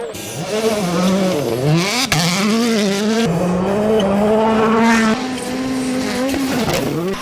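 A WRC rally car charges through a Rally de España stage that mixes asphalt and gravel, its engine loud and close, revving and shifting pitch continuously with brief gear-change dips.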